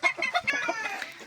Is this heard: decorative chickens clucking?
yes